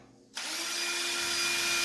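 An electric drill whirs up abruptly from near quiet and keeps running at a steady, high-pitched whine, loud and close, with no talk over it.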